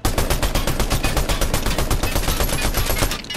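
Rapid automatic gunfire from the video game Fortnite, a loud continuous burst of evenly spaced shots lasting a few seconds with no talk over it.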